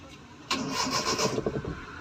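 A Maruti 800 car engine catches after a long crank, bursting abruptly into loud, close running with uneven rhythmic chugging as it settles toward idle.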